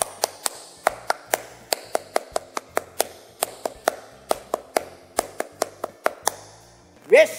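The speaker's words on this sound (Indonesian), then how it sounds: "2 kali tepuk pramuka." Scout-style rhythmic clapping from a group, sharp separate claps in a patterned beat carried through two rounds, close and clear, finished by a brief cheer at the end.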